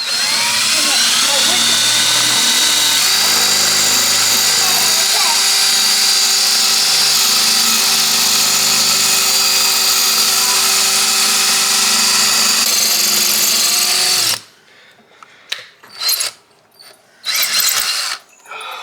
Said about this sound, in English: we were actually not expecting how difficult it would be to just make the holes go into the brick